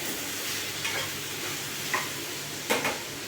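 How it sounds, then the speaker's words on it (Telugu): Brinjal, potato and tomato fry in hot oil with a steady, dense sizzle that stays loud throughout, broken by a few light scrapes or clinks of a spoon against the pan. "వంకాయలు ఆలుగడ్డ అనేది ఆయిల్లో బాగా ఫ్రై అవుతుంది"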